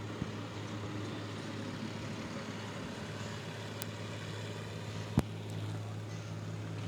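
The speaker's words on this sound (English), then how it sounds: "we got this 3020 John Deere coming in" John Deere 3020 four-cylinder tractor engine at a barnyard tractor pull, heard as a steady low droning rumble that holds evenly, with a couple of sharp clicks partway through.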